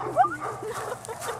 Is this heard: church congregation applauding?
no